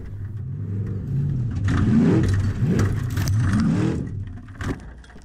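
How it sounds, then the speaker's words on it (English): A formula offroad car at an Icelandic event in Egilsstadir drives away after a roll, its engine revving up and down in several loud, close accelerating surges. "But Páll drives away."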